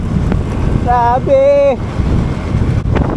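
Strong wind on a mountain road gusts loudly against the microphone throughout, while a voice briefly exclaims near the start.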